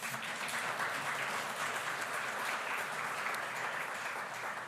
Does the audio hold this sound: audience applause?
yes